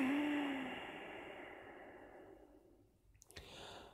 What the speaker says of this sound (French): On expire par les 2 narines.